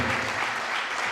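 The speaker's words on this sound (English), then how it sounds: "a round of applause for the fire concept" Audience applause at an entrepreneurs' elevator pitch competition in Ghana, a dense, steady wash of many hands clapping that holds at an even level throughout the short burst, with no voices on top.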